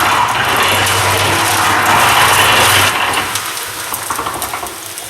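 A mixer churning ultra high performance concrete with a steady, loud, gritty rumble that drops slightly in level partway through.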